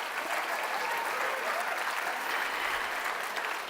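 An audience at a convocation ceremony bursts into sustained, loud applause, a full and even roar of clapping hands lasting several seconds with no speech on top.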